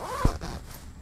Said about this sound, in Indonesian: gue resleting resletingnya dipasang dulu dengan full di sini